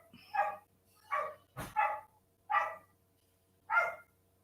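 Dogs in a backyard bark five times in an uneven rhythm, short, moderately distant woofs with silence between them.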